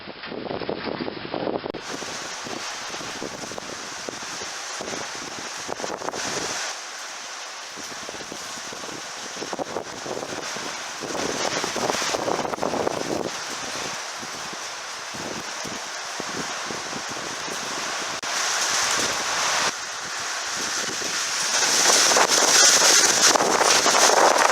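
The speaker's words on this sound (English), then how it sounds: "That had a wicked gust of wind in that." Strong gusts of wind roar across the microphone outdoors as a steady, loud rushing that swells and fades in waves and grows heaviest near the end, with no voices.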